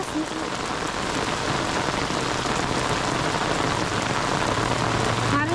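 Steady heavy rain beats down close by, a thick unbroken patter and hiss holding level throughout.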